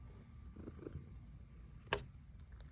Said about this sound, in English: And this little kitty, she's so curious.